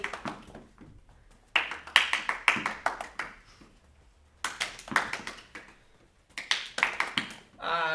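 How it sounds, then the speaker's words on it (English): Hands clap quickly in repeated bursts during a kids' fitness exercise while a dropped ball hits the floor. Each burst is a close, crisp flurry of claps, separated by short pauses. "I'm letting it drop to hit the floor, and then I'm still clapping"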